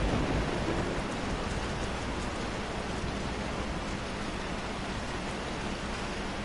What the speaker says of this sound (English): The rain's quite lovely.